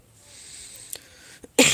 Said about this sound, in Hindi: आज थोड़ी खांसी सी हो रही है यार